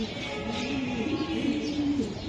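A racing pigeon held in a hand gives low, throaty coos in a continuous rolling run, close and fairly quiet, with light background noise and no talk.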